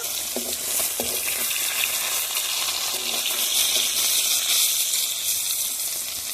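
Pieces of koi fish fry lightly in hot oil for tel koi, making a continuous bubbling sizzle with a faint watery crackle, close and even, with no talking.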